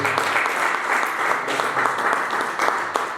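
A church congregation applauds steadily, with continuous dense clapping that holds at an even level throughout, close and full, with no talk over it.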